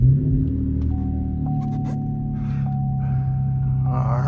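A Cadillac CTS with the base 3.6 engine starts and settles into a steady, close idle rumble, a thin tone running under it and a few faint clicks along the way.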